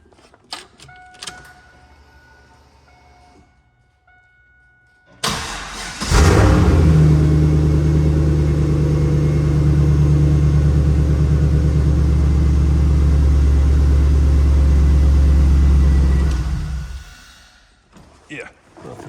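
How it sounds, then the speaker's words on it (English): Chevrolet SS V8 with a K&N air filter and a Flowmaster truck muffler starts after a few key clicks and settles into a loud, deep, steady idle rumble close by, then shuts off. "like a Flowmaster truck muffler on there. Sounds like a truck."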